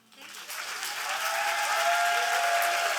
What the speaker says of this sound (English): A round of applause for Chip.